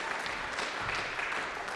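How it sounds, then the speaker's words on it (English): Conference audience applause for a speaker, a faint steady patter of many hands clapping without pause. "Every time I say her name, you applaud."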